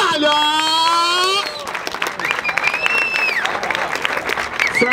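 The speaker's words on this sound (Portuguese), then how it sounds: "Palmas pra essa batalha!" Crowd applause and cheering at a freestyle rap battle, busy clapping mixed with whoops and shouting voices, loud and close throughout.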